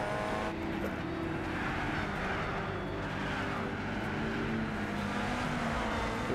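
An Alfa race car engine in Gran Turismo Sport, holding a steady, loud, high-pitched drone throughout as it runs on track.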